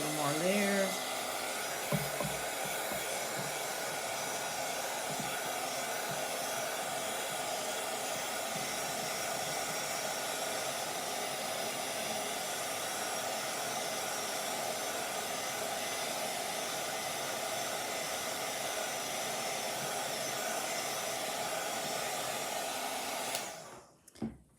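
A hair dryer blows steadily on a watercolour flower painting to dry the paint, a loud, continuous close whoosh that runs without a break for over twenty seconds before clicking off at the end.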